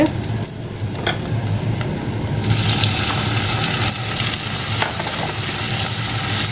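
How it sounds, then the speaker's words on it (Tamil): Onion and tomato sautéing in oil in a pan give a steady, close sizzle with scraping stirs, and the frying grows brighter and louder partway through. "வெங்காயம் தக்காளி கொஞ்சம் வதங்கி வரட்டும்"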